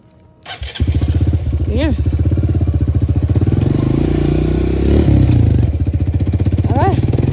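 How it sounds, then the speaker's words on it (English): A dirt bike engine sputters, catches and settles into a loud, steady chugging idle with a couple of revs, close by, with a brief voice at the start. "we're gonna get on my dirt bike"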